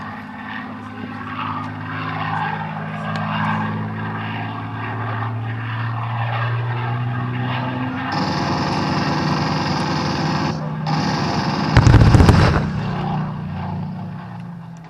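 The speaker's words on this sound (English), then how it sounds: "So there's our amazing Panzer III." A German Panzer III tank driving past at a Tankfest display, a loud continuous engine roar with deep rumble and track clatter, rising and intensifying toward a harsh peak near the end, no talk over it.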